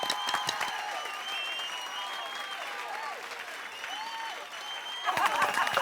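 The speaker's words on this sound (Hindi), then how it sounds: "अरे वाह, सब लोग उधर ताली बजा रहे हैं।" Steady audience applause fills a comic poetry gathering after a recited poem, continuous and moderately loud, with faint voices and tonal sounds layered over it and a brief louder swell near the end.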